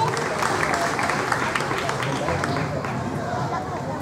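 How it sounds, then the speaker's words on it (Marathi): Crowd at a public meeting on Ambedkar's 22 Vows clapping loudly for a guest, a dense, steady wash of applause mixed with voices. "जोरदार टाळ्या, जोरदार."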